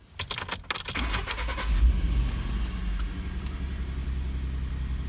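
A 2011 Ford F150's ignition key jingles and clicks in the lock, then the engine cranks and catches, settling into a steady, close low idle hum.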